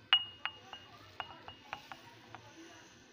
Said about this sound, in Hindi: इसको अच्छे तरीके से हमने मिक्स कर लेना है, कॉफ़ी को और चीनी को अच्छे से हमने मिक्स किया।